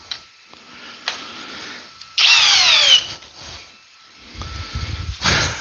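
A cordless power drill, Ryobi or Hart, whirs in a loud, short burst of about a second, surrounded by quieter clicks, knocks and handling noise.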